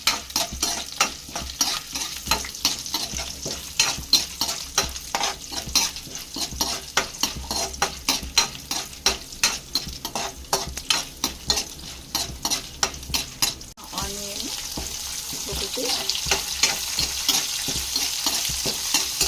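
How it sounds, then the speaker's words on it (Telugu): Drumstick leaves frying in a pan with chana dal, stirred with a metal spoon: repeated rhythmic scraping strokes over a steady sizzle, close and clear, with no voices. "వీటిని ఫ్రై చేయాలి బ్రౌన్ కలర్ వచ్చేంత వరకు"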